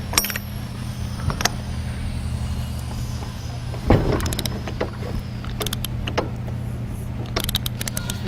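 An engine's crankshaft is turned over by hand, giving a low steady mechanical hum with one heavier compression thump midway and scattered metallic clicks and taps.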